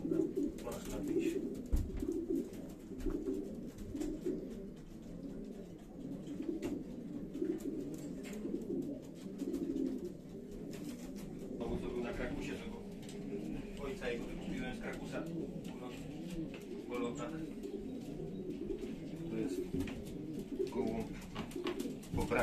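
Racing pigeons coo steadily in a loft, a constant low burbling that fills the space, with people talking nearby over it throughout.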